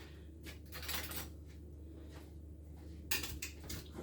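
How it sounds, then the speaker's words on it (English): Scouse stew being stirred in a one-inch pot, with a spoon scraping and clinking against the metal in several short bursts, quiet and close with pauses between strokes. "I'll give this a stir in fact, because the meat's all on the bottom"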